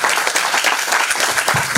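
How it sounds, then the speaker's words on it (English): Audience applause at an academic conference's valedictory session, dense steady clapping from a crowd lasting the whole brief moment. "we need to have a big round of applause for him."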